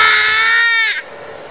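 A child imitates a lion's roar with one loud, high-pitched, sustained vocal cry close to the microphone, lasting about a second before breaking off.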